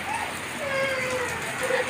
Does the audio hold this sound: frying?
no